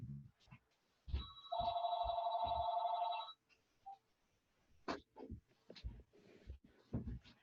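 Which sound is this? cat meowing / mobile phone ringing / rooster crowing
mobile phone ringing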